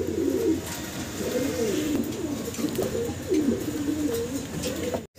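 German Beauty Homer pigeons coo in repeated soft, throaty rolling phrases, close by and clear, over a low steady background hum.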